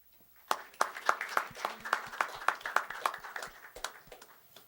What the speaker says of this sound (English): Let's give a big round of applause for our 2013 Scholar Athletes